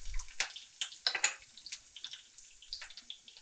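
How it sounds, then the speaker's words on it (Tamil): Mustard seeds spluttering and popping in hot oil while tempering for tomato chutney, a run of sharp irregular crackles and pops, close and fairly quiet, with no talk. "ஸோ கடுகு பொரியுது"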